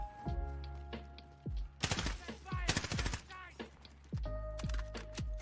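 Suppressed weapon fire in the shooter game Warzone comes as quick muffled bursts and single shots in the mix, mixed with game effects and brief voices over a steady low background hum.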